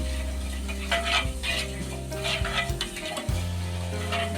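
Fenugreek and cumin seeds fry in oil with a close, steady crackling sizzle, punctuated by a few stirring scrapes and a low background hum.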